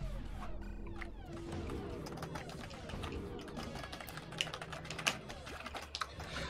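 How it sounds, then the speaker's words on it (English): Rapid, uneven key mashing on a computer keyboard, a dense run of clicky taps underneath game sounds and some talk, with a few sharper keystrokes standing out. "I swear, it sounds like you're just typing. I'm definitely key mashing a little bit"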